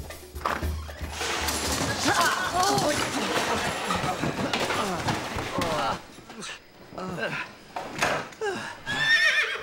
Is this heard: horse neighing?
yes